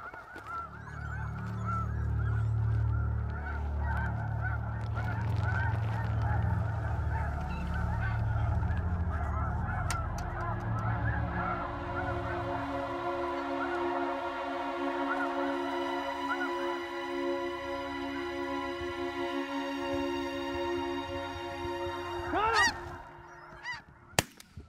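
A large flock of snow geese honks continuously during a spring hunt in South Dakota, a dense chorus of overlapping calls that thins into higher, layered honks, with a few sharp knocks near the end.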